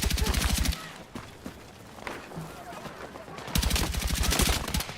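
A Steyr AUG rifle fires in Battlefield 6: a fast, loud automatic burst opens the clip, quieter footsteps and movement follow, then another long rapid burst rings out close up.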